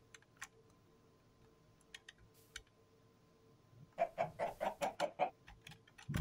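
Minecraft chickens in the Better Than Wolves mod cluck in a quick run of repeated short calls after a few scattered faint clicks, moderately close and without talk.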